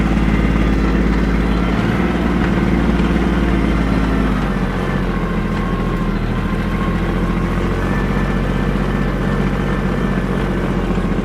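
Kubota GB20 mini tractor engine running steadily up close as the tractor turns in place, a continuous low-pitched diesel drone with no break throughout.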